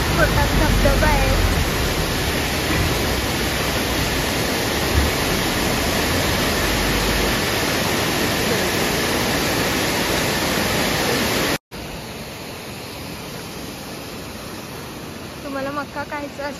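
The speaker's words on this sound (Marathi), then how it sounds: "हा छोटा धबधबा आहे।" A small waterfall in Kumbharli ghat pours with a loud, steady rushing roar that fills the scene, dropping a little quieter after a brief cut near the end.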